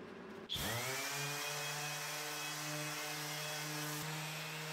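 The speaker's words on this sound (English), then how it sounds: "After scraping off most of the raised resin, we can safely use the sander." An electric sander on wood spins up sharply and then holds a steady high whine, running continuously at close range, with a slight dip near the end.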